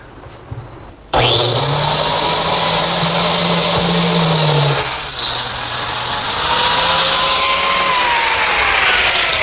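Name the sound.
biscuit joiner cutting a slot in wood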